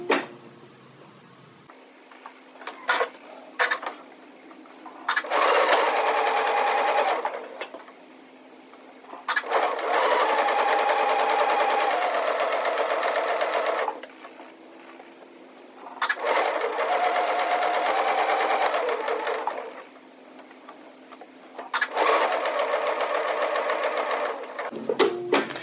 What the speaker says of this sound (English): So we'll just start stitching.